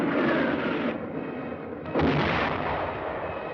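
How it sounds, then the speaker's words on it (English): Wartime battle gunfire, a dense wall of automatic weapon, mortar and artillery fire, roaring continuously with a heavy burst near the two-second mark and sustained rumbling blasts throughout. "Both times they had come up against a wall of automatic weapon, mortar, and artillery fire"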